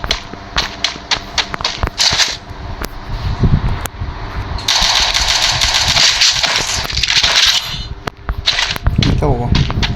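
Rapid bursts of game gunfire crackle in quick volleys, with a sustained loud stretch in the middle, over a noisy mix and some talk.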